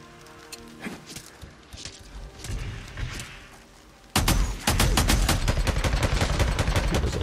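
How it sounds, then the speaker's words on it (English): Grenade explosions and bursts of gunfire in the zombie-horde video game Days Gone: a quieter stretch of scattered shots and thuds gives way to a loud, dense barrage of rapid blasts and shots that continues to the end. "Put some grenades in there with them."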